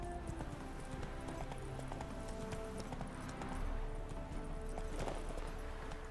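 Roach, the horse in The Witcher 3, gallops with a steady, rapid clip-clop of hooves that runs throughout, over a background of ambient game sound.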